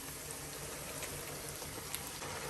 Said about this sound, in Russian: добавляем всю морковь, сладкий перец.